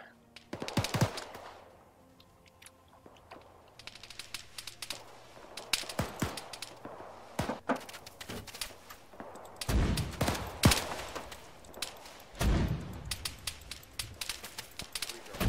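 Irregular bursts of automatic fire and single shots ring out in the military shooter Arma 3 during a fight with insurgents, loud sharp cracks spaced by short pauses, with a voice talking between volleys.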